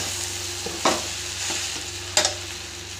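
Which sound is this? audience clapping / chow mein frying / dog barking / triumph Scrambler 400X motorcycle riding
chow mein frying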